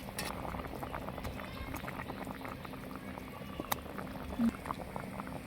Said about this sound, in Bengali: তরকারিতে সুন্দর বলক এসেছে